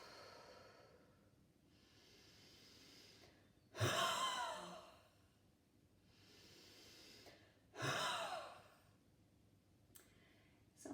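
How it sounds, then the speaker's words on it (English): Two deep, slow breaths taken during a physio breathing exercise, each a loud airy inhale-exhale rising out of a quiet background with pauses between. "We're going to breathe in."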